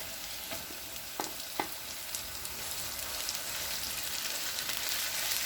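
Chicken mince frying in a pan with onion and garlic paste, a steady close sizzle with a few sharp stirring clicks early on and no voices.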